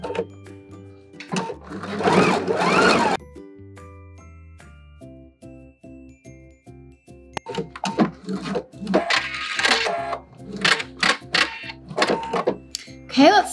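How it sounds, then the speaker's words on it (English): Sewing machine stitching a clear raincoat whirs in several bursts separated by pauses, with tonal hum between runs and closely spaced needle clicks toward the end; a voice talks intermittently around the stitching. "So we're gonna go ahead and sew this on and then we're going to bias bind it together."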